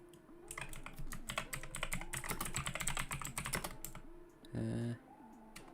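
Rapid typing on a loud computer keyboard, with a steady, close clatter of keystrokes that runs for several seconds, then a short burst of a different, louder sound near the end.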